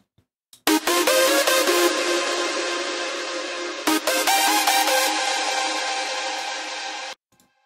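Several stacked hardstyle synth chord leads play together as one loud, dense, sustained chord progression, with a brief cut near the four-second mark before the chords resume and then stop abruptly.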